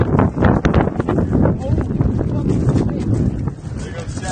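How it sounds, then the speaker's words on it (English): Strong gusting wind buffets the microphone on a building rooftop, a loud, broadband roar that swells and lingers through the clip while people talk over it. "we got a strong gust of wind suddenly"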